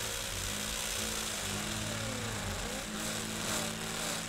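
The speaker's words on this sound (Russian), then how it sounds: "Господи, сколько можно сверлить, дурдом какой-то." Drilling during a flat renovation: a loud, steady, grinding drill whine runs without a break. It stays dense and unbroken and is heard alone.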